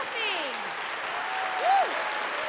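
A conference audience applauds steadily to welcome speaker Johnathon Shafi, with a dense wash of clapping and a couple of rising and falling whoops on top.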